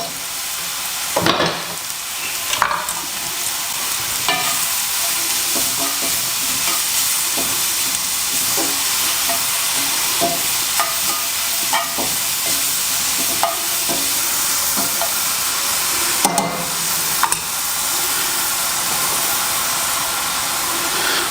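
Mushrooms fry in melted butter in a pan, giving a loud, dense, continuous sizzle. Scattered clicks and scrapes from stirring cut through it now and then.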